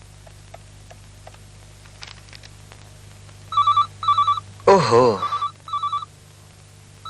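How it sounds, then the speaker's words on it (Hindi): A telephone rings unanswered, several repeated electronic double trills sounding at regular intervals, with a voice breaking in briefly between the rings. "रिंग जा रही है पर कोई फोन नहीं उठा रहा है।"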